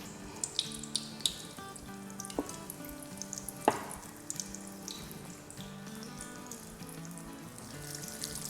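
Onion katori pakoras frying in hot oil give a steady, faint sizzle and crackle with scattered soft pops and occasional utensil taps, with no talking.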